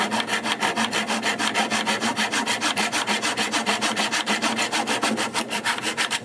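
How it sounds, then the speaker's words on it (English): A hand saw cuts an angle through wooden lamp top trim in fast, even back-and-forth strokes, about five or six per second, close and clear with no talk. "I'm gonna clamp this and cut the first angle."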